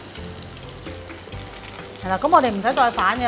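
A meat patty pan-fries over high heat with a constant close sizzle, and a voice talks over it in the second half.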